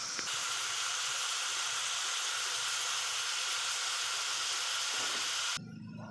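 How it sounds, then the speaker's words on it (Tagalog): Marinated pork steak fries in a pan with a strong, continuous hiss of hot oil that stays even and close, then cuts off abruptly near the end, leaving a low hum. "Piniprito ko na po yung binabad kong pang pork stick kanina"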